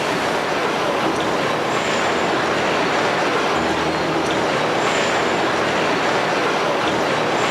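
Train at a station platform, a steady broad rumble of rail cars with faint high wheel squeal, continuous and fairly loud with no voices.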